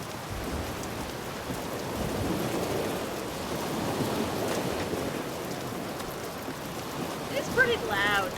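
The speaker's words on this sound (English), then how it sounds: "It's pretty loud too, because it's stormy, but in-game, obviously." Stormy in-game rain and thunder from BioShock Infinite, a steady hiss of heavy rainfall with low rumbling underneath and a few brighter spatters near the end, moderately loud and continuous.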